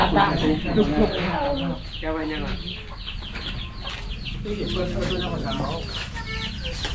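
Chickens clucking close by in a steady, busy chatter of short repeated calls, with a person talking over them.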